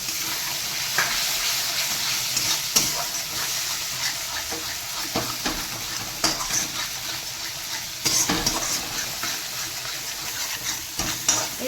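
Water poured into a spiced paste in a hot pan for a Bengali bachi fish curry sizzles in a steady, close broadband hiss, with scraping stirs and occasional clinks throughout.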